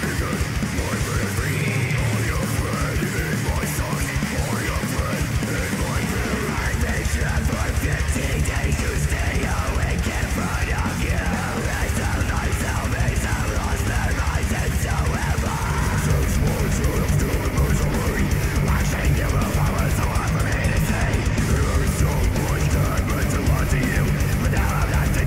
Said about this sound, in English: Now here's the most up-to-date scream that I can do.